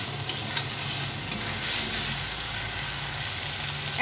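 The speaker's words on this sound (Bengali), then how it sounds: "লবণ হলুদ আর বাটা মশলা দিয়ে এটাকে ভালো করে কষিয়ে নিতে হবে।" Dried chili paste, salt, turmeric and ground spice paste fry in a pan, a close steady sizzle with repeated scraping and tapping from stirring, no voices.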